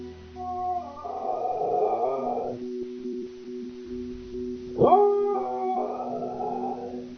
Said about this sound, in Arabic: بدلا من النباح يصدر بيسنجي أصواتا شبيهة بالضحك